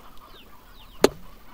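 A single short chicken cluck from the video game Slime Rancher pops out once over a faint, quiet background.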